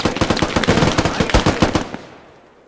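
Rapid automatic gunfire in the video game Squad, a loud close burst of about twenty evenly spaced shots that stops abruptly and rings out into silence.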